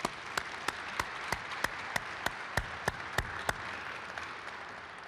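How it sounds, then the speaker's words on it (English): Scattered, sparse clapping from a small audience honoring donors at a nonprofit event, with individual claps standing out as distinct, moderately close sharp hits that thin out and fade after a few seconds. "How about a round of applause for all of our donors?"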